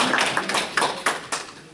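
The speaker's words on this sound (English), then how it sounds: "Give them an applause again." Classroom audience applauding during a lecture, a short burst of several loose, scattered claps with uneven rhythm, close and moderately loud, with no talk over it.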